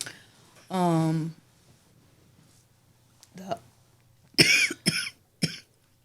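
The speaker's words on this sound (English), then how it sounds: "Stop coughing in my mic." Several sharp, loud coughs right up close to a microphone, one quick pair, after a brief drawn-out vocal sound and quiet gaps.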